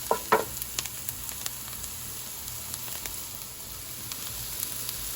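Onions sautéing with salt in a pan while fish peera is cooked, a continuous close sizzle and crackle with a couple of sharp stirring knocks near the start, no voices.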